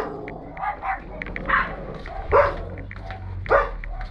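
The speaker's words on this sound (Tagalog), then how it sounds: "Aso." A dog barks close by in a home, giving four or five sharp, evenly spaced barks with soft whimpers in between, over faint background noise.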